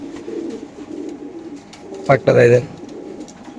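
Racer pigeons coo softly at a loft, low murmuring calls with a louder burst near the end, while someone speaks briefly over them.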